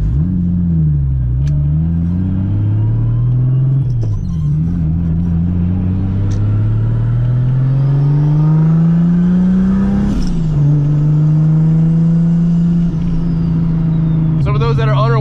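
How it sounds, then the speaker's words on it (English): Nissan 300ZX Z32 fitted with a 2JZ-GTE engine heard from inside while driving: a loud, droning engine note that rises through the gears, dips on shifts and settles into a steady cruise, with a brief hiss near the end. "We are driving the Z32, obviously. And it's actually got a 2JZ in it."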